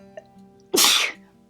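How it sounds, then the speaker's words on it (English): A single sharp human sneeze bursts out close to the microphone after a quiet moment, loud and lasting about half a second. "I need to sneeze."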